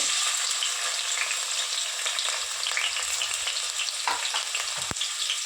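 Oil in a pan sizzles and fries loudly and steadily with a bay leaf and green chillies, and a couple of brief stirring clinks sound near the end.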